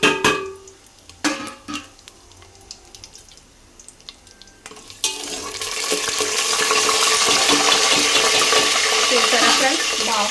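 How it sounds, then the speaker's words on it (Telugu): Vegetables for vegetable biryani fry in a pan, a few clattering clinks and stirring knocks at first, then a loud, steady close sizzle that fills the rest of the clip. "బాగా ఫ్రై అవుతున్నాయి కదా"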